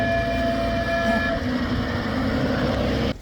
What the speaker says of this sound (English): There's a cute little train that runs through as well.